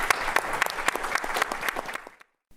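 Audience applause at a public event on Afro-Indigenous peoples of Honduras: steady, dense clapping from a crowd for about two seconds, then fading quickly to silence.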